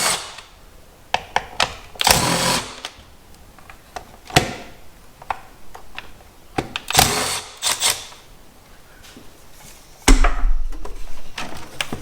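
A power tool removes four 8mm fasteners holding the air box on a Honda J-series V6 engine, in several short, loud whirring bursts separated by quiet handling and clinks.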